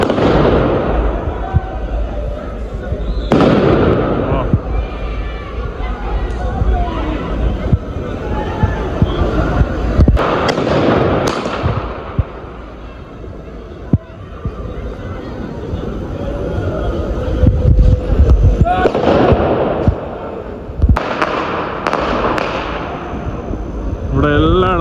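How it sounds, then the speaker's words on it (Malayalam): New Year firecrackers and fireworks go off in the streets of Vienna: repeated sharp bangs and crackling bursts, some loud and close, others further off. People talk throughout. "ഇവിടെ ഫുള്ള് പടക്കം പിടിച്ച് കളിക്കാം"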